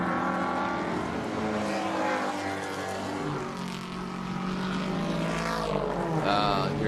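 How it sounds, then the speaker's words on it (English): A V8 GTS race car passes on the Mid-Ohio Sports Car Course during a 2017 Pirelli World Challenge round, its loud, thundering engine roaring continuously with shifting pitch and a rising whine as it closes in. "Hear that thunder of that V8."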